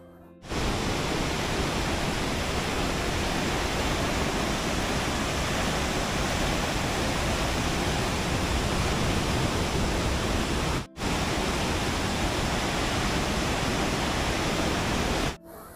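Turga Falls, swollen by monsoon rains, pours with a loud, steady, broadband rush of falling water heard up close, cutting out briefly near the end.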